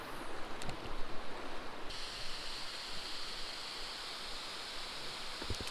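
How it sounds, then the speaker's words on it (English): Small waterfalls spill off the side into a crystal-clear creek, giving a steady, soft rushing and splashing wash of water that stays even and fairly faint throughout. "there's these little cool waterfalls like coming in off the side, coming into it"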